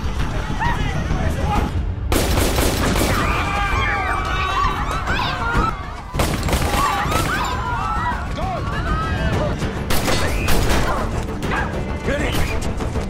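A film shootout and chase scene: loud crashes and sharp impacts burst repeatedly over dense action noise and music, with voices mixed in.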